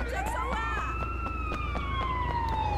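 A police siren wails in the Sleeping Dogs video game, one long rising-then-falling tone sweeping over a low steady rumble, fairly close and continuous.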